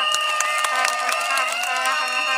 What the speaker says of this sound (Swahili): kwanza mjipigie makofi